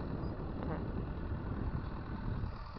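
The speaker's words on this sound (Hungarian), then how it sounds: "Hogy jön a másik traktor, nézzétek csak." Farm tractor engine running steadily in an open field during ploughing, a continuous low rumble mixed with outdoor wind noise, with no clear rise as it approaches.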